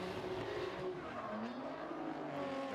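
Race car engine at Ebisu Circuit West Course in Fukushima during drift qualifying, droning steadily through the whole stretch with shifting harmonic tones and tire squeal mixed in, loud and continuous without talk.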